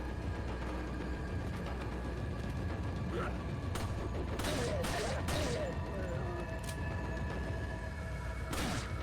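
Gunshots in the video game Resident Evil 4: a few sharp cracks and mechanical clicks stand out over a constant dense background hiss and game noise, with a voice talking along.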